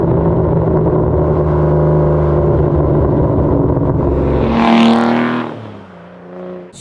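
Manual Aston Martin DBS V12 droning loudly at steady cruise, then the throttle lifts and the exhaust crackles and pops with a short burst of burbles as the engine note falls away, close and alone.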